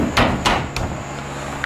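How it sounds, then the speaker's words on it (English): Hammer taps on a snug radiator relocation part being driven into place on a Wild Boar, a few sharp knocks near the start, then quieter shop sounds. "Give it a couple taps up in there."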